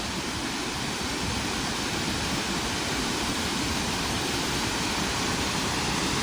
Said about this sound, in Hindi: तो ये है वाटरफॉल।